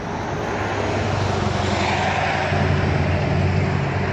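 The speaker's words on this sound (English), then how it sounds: "You can hear the traffic." Road traffic from the three roads surrounding a rural property makes a loud, continuous engine roar with a broad, steady drone that swells slightly toward the end, and no voices are heard.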